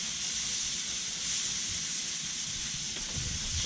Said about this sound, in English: Go ahead and spritz this as well. Again, we're using just plain old apple juice.